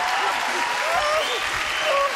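Brief, steady applause from a French TV game-show studio audience for a contestant named Patrice, a dense even wash of clapping with faint voices underneath.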